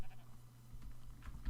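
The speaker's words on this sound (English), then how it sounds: "Now there's the herd of sheep that we raided, I think." Sheep in the survival video game Rising World bleat from a herd, a short wavering call that sits low and faint under steady game ambience and rises again briefly near the end.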